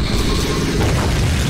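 An exploding Skibidi toilet in Garry's Mod gives a loud, dense roaring blast with crackling noise that fills the whole moment without letting up.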